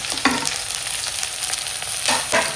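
Onions and curry leaves fry in hot oil for a thick gravy, a close, steady crackling sizzle broken by a couple of louder stirring scrapes, with no voices.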